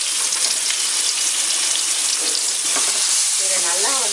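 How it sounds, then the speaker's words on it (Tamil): Onion and ginger-garlic paste sauté in oil over a medium flame, giving a steady, close, loud sizzle and crackle that runs throughout, with faint stirring and a brief tonal squeal near the end. "இதை நல்லா வந்து ஒரு 2 நிமிஷம் இந்த எண்ணெயிலே மீடியம் ஃப்ளேமில் வச்சு வதக்கணும்"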